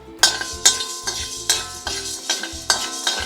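Spices roast and are stirred in a hot brass vessel while making Tanjore-style sambar, producing a steady rhythm of close, sharp scraping strokes about every half second, with no talk.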